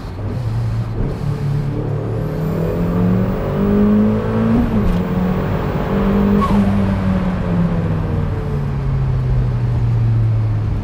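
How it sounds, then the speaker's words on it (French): A Mazda Miata fitted with competition engine mounts revs hard and loud, its engine note climbing and dropping through quick flat-shift gear changes with the throttle held wide open, steady and close throughout. "Le flat shift, c'est quand même une dinguerie. Tu peux passer les rapports en restant pied au plancher."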